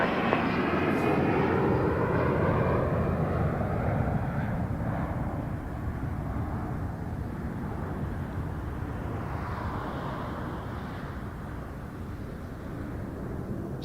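An Emirates jet at Toronto Pearson Airport thunders loudly and then slowly fades, a broad engine roar with a falling whine that recedes over several seconds, with faint radio chatter in the background.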